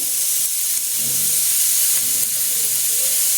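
Onions sautéing in a pan with salt and turmeric produce a strong, steady hiss of sizzling and steam that holds at a constant level from start to finish, without any speech.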